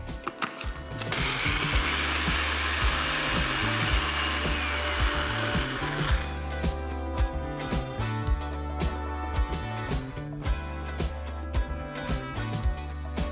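A blender blitzes a cashew tamarind sauce with coriander and cumin, starting with a loud, roaring whir that settles into a steady, humming motor drone running throughout.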